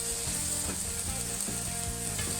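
Smash burger patties sizzle loudly on a hot griddle just after being flipped, a dense steady crackle with faint scraping clicks from a spatula, no talking.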